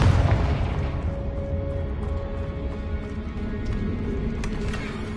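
A loud Confringo fire-blast spell in Hogwarts Legacy bursts at the start, followed by lower rumbling and scattered smaller pops.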